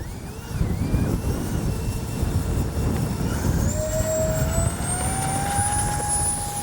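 An X-Fly 40mm J-65 RC jet flies past with a steady roaring whoosh and a rising, whining turbine tone that swells and holds, fairly loud against wind noise, with no talking.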